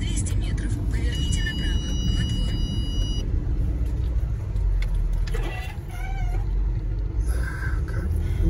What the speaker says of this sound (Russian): Машина царапается.